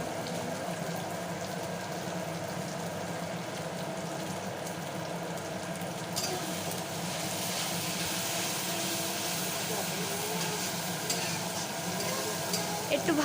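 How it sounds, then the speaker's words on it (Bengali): Ground turmeric and Kashmiri chili powder frying in oil in a pan for a mutton curry, giving a steady, low sizzle with light stirring throughout. "একটু ভাজা ভাজা হোক এটা।"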